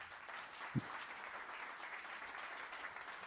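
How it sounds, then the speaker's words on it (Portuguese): Audience applauding a speaker, the co-founder of Mercado Livre, at a live talk event; a soft, steady wash of clapping heard from a distance, with one brief thump near the start. "uma grande salva de palmas para ele"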